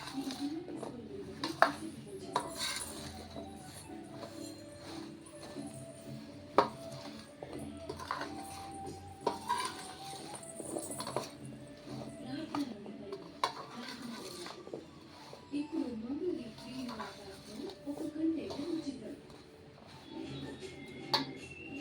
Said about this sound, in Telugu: ఆవాల పొడి, మెంతి పొడి, వేసి బాగా కలపాలి.